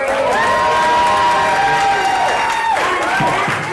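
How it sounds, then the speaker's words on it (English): A theater audience at a storytelling game show in Big Bear Lake breaks into sustained applause and cheering, loud and continuous, with whoops and shouted voices rising over the clapping. "one more time, big round of applause for Brian Adams right here."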